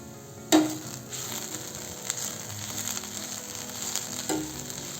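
Chopped tender bamboo shoot vegetable cooks uncovered on a low gas flame, giving a steady soft sizzle close by, with a sharp clink at the start and a couple of light knocks later.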